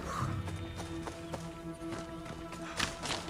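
Horse hooves clip-clop in Assassin's Creed Odyssey, a quiet even rhythm of hoof strikes over a steady game music bed, with a faint whinny near the start.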